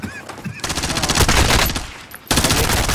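Loud rapid automatic gunfire from the Call of Duty: Modern Warfare video game, in long continuous bursts with a brief pause before another burst starts.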